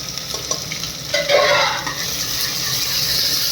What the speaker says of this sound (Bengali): পেঁয়াজ আর কাঁচা লঙ্কা কুকারের মধ্যে দিয়ে দিলাম। এটা ভেজে নেই ভালো করে।